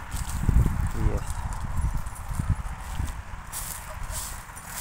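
A grey mare walking over a winter wheat field, hooves clip-clopping in an irregular close rhythm while a person talks over them.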